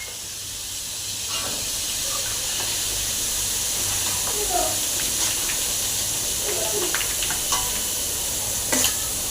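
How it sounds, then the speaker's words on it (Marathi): Cumin and mustard seeds fry in hot oil while vada pav masala is being made. A steady, close hiss of sizzling fills the whole stretch, with scattered small pops and crackles. "तेल चांगलं तापलेलं आहे। त्यामध्ये अर्धी वाटी जिरे आणि अर्धी वाटी मोहरी घातलेलं आहे।"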